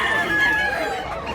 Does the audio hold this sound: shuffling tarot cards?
no